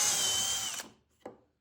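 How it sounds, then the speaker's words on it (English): A power drill whines loudly and steadily while drilling and countersinking a screw hole in wood, then cuts off, leaving a brief pause and one short knock afterward. "drill it, and countersink it."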